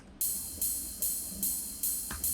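A bright, shimmering EDM ride cymbal strikes about six times in a steady pulse, each hit ringing and decaying into the next, loud and alone.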